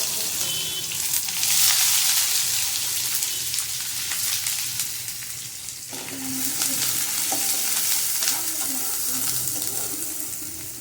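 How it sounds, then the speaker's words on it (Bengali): Onions sizzle and crackle in hot oil in a wok, oil previously used for frying potatoes, a steady frying hiss with scraping stirs; a louder burst begins midway as more is stirred. "পেঁয়াজটা এখানে ভেজে নেব"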